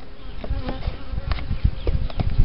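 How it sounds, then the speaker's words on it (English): Bees buzz in and around a spring beehive that also holds trapped hive beetles, a close, continuous droning hum with brief louder swells as insects pass near. "some bees that have gotten in there, but there's also a lot of hive beetles in there as well"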